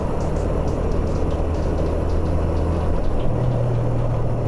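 A Suzuki GN motorcycle being ridden on the road, its engine drone steady and loud throughout, mixed with rushing wind noise, with a slight shift in pitch near the end as the revs change.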